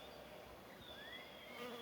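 Honey bees at a hive buzz softly and continuously, with several individual bees whining past close by against a low hum.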